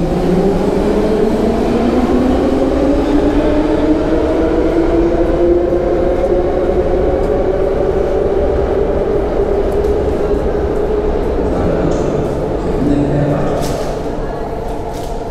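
A Warsaw Metro M1 line train pulls in at rush hour with a loud, rising mechanical whine and rumbling wheels, close by and continuous, then begins to slow.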